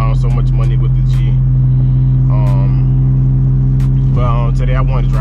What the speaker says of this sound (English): But today I want to drive it. I'm driving it to work right now.